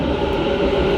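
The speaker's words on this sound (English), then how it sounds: "So there's a metro coming there." A metro train arrives at a station, its loud, steady rail rumble and wheel noise filling the space with no talk.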